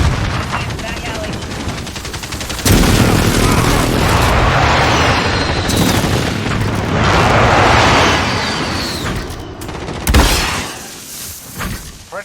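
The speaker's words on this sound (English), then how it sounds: "Enemy precision airstrike. Take cover." Precision airstrike explosions in Modern Warfare during a headquarters match in a back alley: a loud, sustained series of heavy blasts and crackling debris rolling for several seconds, a sharp burst near the end, with game voice callouts around it.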